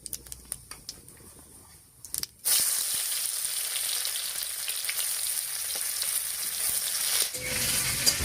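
Chopped onion drops into hot oil already frying dried red chilli and whole cumin. A few quiet clinks come first, then a sudden loud sizzle that goes on steadily, close up.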